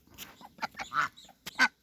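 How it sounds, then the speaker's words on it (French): Guinea geese give a quick series of short, nasal honks, about six calls in close succession, loud and near, with brief gaps of quiet between them. "Donc ça c'est mes oies de Guinée."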